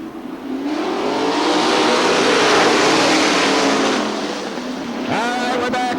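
410 winged sprint cars roar loudly together on a dirt oval at Crystal Motor Speedway, engines swelling as the field accelerates away on a restart, then a single car revs and passes close by near the end.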